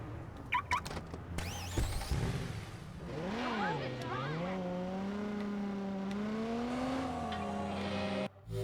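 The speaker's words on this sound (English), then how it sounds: "Oh, the car just moved on its own." A car in a video game rolls off on its own, with engine hum and faint tire noise under a person's steady talking.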